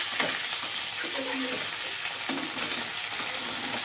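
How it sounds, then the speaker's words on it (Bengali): Spiced oil tempering sizzles hard in a pan as potato, sweet potato, carrot and pumpkin go in, a steady loud frying hiss with stirring scrapes and no talk. "ফোড়নটা ভাজা ভাজা হয়ে গেছে এর মধ্যে আমি একে একে দিয়ে দেব সবজিগুলো"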